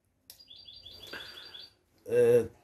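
Caged birds give a quick run of bright, close chirps and tweets, followed by a louder burst of calling, with speech-like sounds also present.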